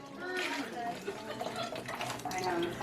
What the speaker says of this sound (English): there it is, beef stock. Pour that in.